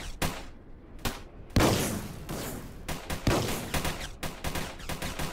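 Rapid bursts of tank and vehicle gunfire in the Roblox game Armored Patrol, loud sharp shots in irregular clusters with a heavy boom partway through, alone without talk.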